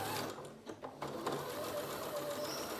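A sewing machine stitching the seam of a fabric bucket, its quick, even mechanical whirr running close and fairly quiet, with a brief stutter near the start before it steadies.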